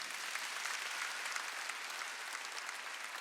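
A church congregation at a Korean Wednesday worship service bursts into sustained applause, a dense, even roar of many hands clapping at once, fairly soft and distant in the room.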